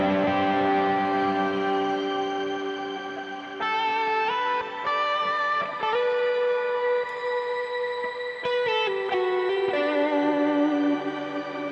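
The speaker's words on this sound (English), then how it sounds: "You can freeze the reverb just by holding on the foot switch." Sustained, shimmering guitar tones held as a frozen reverb wash from a NUX Core Deluxe pedal with shimmer reverb, forming a synth-like pad that shifts chords every few seconds, with no talking.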